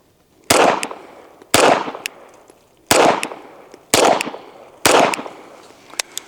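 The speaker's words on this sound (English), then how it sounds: "We're gonna shoot in the dirt, 5-6 rounds, and let you get an ear for what that sounds like unsuppressed" Five unsuppressed 9mm pistol shots fired into dirt outdoors, loud sharp cracks spaced about a second apart, each followed by a short echoing decay.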